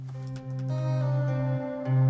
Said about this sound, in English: I time stretched the sample itself. So it sounds like this now.